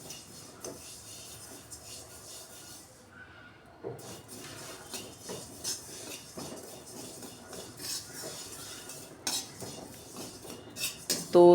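Roasted sesame seeds are scraped and tipped from a pan onto a plate for sesame-jaggery laddoos, giving scattered light clinks and scrapes of utensil on metal with a louder clatter at the end.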